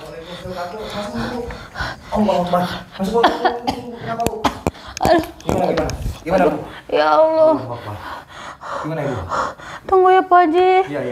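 A person gasps and pants heavily, catching their breath in ragged, uneven bursts, with some vocal strain mixed in, loud and close.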